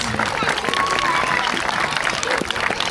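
Zoo crowd at a Blackpool Zoo sea lion show breaking into sustained applause, dense clapping from many hands with a presenter's voice over it and a few calls from the audience.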